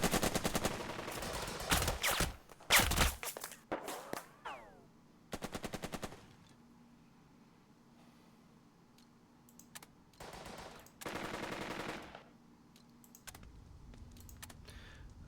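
Bursts of squad rifle and machine-gun fire from the Burden of Command war game, rapid crackling volleys separated by short quiet gaps, loud and close, with no talking over them.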